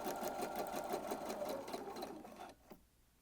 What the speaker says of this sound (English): you're going to sew both sides